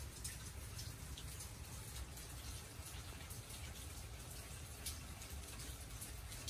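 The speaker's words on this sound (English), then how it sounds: "It's raining out this door, too." Steady rain patters and hisses outside, a constant wash of droplets with no voices.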